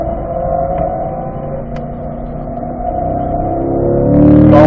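A car driving hard on the Ron Fellows race track, its engine droning steadily and then rising into a louder rev as it accelerates out of a turn, heard close from inside and with no talk.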